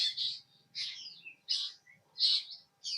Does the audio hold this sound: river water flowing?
no